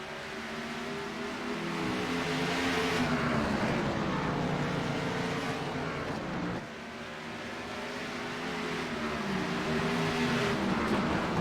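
Race cars at Sonoma Raceway roar steadily past, engines droning loud and continuous with rising and falling pitch as they run close together, a brief dip midway before the engine noise builds again.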